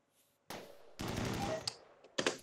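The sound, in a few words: precision sniper turret firing in a video game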